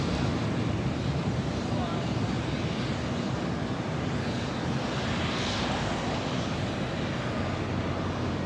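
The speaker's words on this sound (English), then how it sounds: "This is Air Canada 786 taking off to Toronto on the A321." An Air Canada Airbus A321 taking off at LAX, a steady broadband engine roar heard at a distance with wind noise, and people talking over it.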